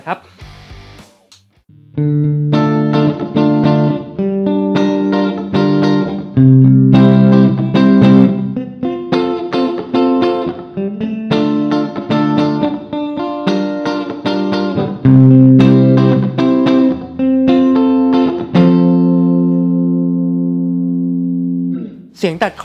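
Flying V electric guitar played through combined coil-split pickups for a clear, clean tone, with ringing chords and single notes over a steady strummed rhythm that ends on a long sustained chord; no talking.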